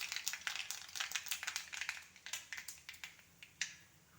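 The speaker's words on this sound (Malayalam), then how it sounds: "ഇപ്പോൾ കടുക് നല്ലപോലെ പൊട്ടിക്കൊണ്ടിരിക്കുകയാണ്." Mustard seeds for a crab curry popping in hot oil, a quick scatter of sharp little crackles and pops, close but faint, irregular and fairly dense, thinning out toward the end.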